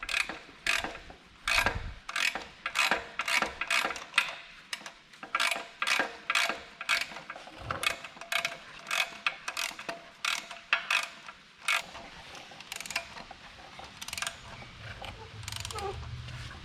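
Rapid clicking of a ratchet tightening a part on an engine during a compression test in a family garage, many close, sharp pawl clicks in uneven bursts with brief pauses between strokes.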